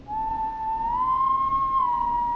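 A steady, sustained whistle in the horror video game Killer Frequency, one clear tone that rises a little in pitch and then settles again, held for more than two seconds with no talking.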